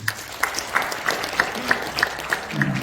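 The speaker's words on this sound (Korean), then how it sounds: "여러분 큰 응원의 박수 부탁드립니다." Rhythmic applause from a crowd at a prayer breakfast, claps landing in an even beat, fairly close and steady throughout.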